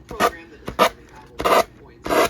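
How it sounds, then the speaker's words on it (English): Four short, rasping sanding strokes work over the edges of a napkin-covered, Mod Podge-glued craft piece, each a brief scratchy burst separated by pauses, close and fairly loud with no talk during the strokes. "Now sanding, goodness, can I speak? Sanding the edges."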